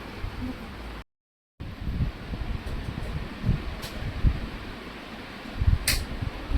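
A child's homemade electric fan runs with a steady airy whir and rattly motor hum, broken by a brief silent gap, faint and close with no talk.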